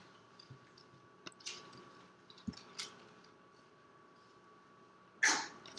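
A single sharp sneeze bursts out near the end of a quiet room, preceded by a few faint taps and rustles.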